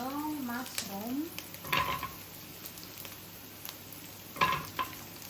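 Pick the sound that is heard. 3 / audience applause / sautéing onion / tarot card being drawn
sautéing onion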